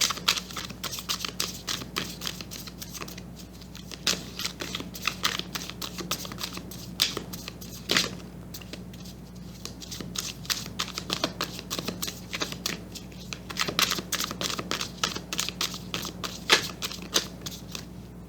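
Tarot cards are shuffled by hand in an ongoing stream of crisp riffling and slapping bursts, close and fairly steady over a low constant hum, with no talking.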